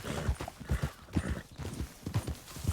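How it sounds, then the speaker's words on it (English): Horse hooves clip-clop in Red Dead Redemption 2, a steady walking rhythm of soft thuds at moderate distance, with no talk over them. "I can hear horses."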